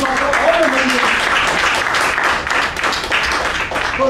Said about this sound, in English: give a big round of applause for all the members